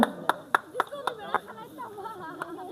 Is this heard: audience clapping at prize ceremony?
yes